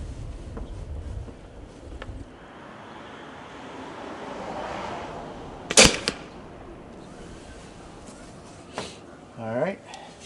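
A Centerpoint Wrath 430 crossbow fires a heavier practice-broadhead bolt with a lighted nock at 30 yards, giving one sharp, loud snap over steady outdoor wind, with a faint later thud and brief noises afterward.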